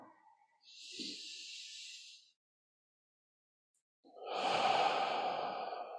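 Slow, deep meditation breathing: an airy inhale, a pause of near silence, then a longer, louder exhale, close and unaccompanied by talk.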